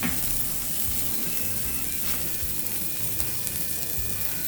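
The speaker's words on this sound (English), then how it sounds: "I will get the weight back on for about 45 seconds or so just to" Steak searing under a weight on an outdoor griddle, a dense, continuous sizzle and crackle of fat frying on the hot flat-top, steady throughout with no talking.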